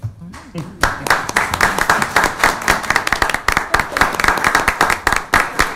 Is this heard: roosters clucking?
no